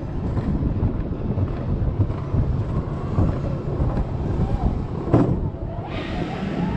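Steady wind rushes hard past the rider as the Dawson Duel roller coaster at Bellewaerde gathers speed, a constant loud roar with a brief swell near the end and a voice speaking over it.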